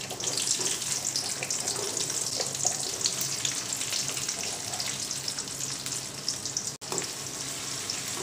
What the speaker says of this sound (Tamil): எண்ணெய் வந்து சூடாயிடுச்சு, ஆனியன் ஆட் பண்ணிக்கிறேன்.